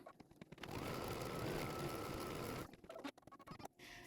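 An embroidery machine stitches an applique placement line for the first fabric of an Emmy Doodle bean-stitch letter, a steady close mechanical whirr that runs for about two seconds between softer scattered clicks and taps, with no talking.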